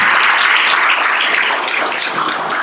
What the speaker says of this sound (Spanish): Dale el mejor aplauso que tenga al Rey de Reyes y Señor de Señores